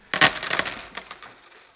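A handful of Costa Rican coins dropped onto a hard surface, giving a quick cluster of bright metallic clinks that jingle briefly and then settle into a fading ring.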